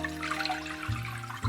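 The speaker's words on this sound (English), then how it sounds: "Add some water." Water pours into a cooking pan of stir-fried tomato for homemade tomato egg soup noodles, giving a short, steady rushing splash close by with no talk.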